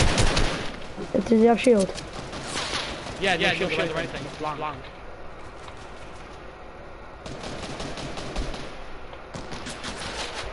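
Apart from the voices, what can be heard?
gunfire in a video game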